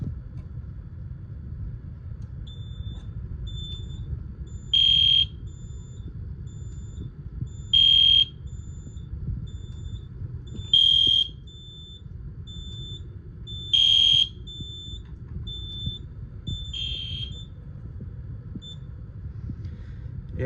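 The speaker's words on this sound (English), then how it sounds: "let's go ahead and set the alarm off" A Simplex 4005 fire alarm panel sounds short, shrill electronic tones in a slow regular pattern, one every three seconds, over a low background rumble.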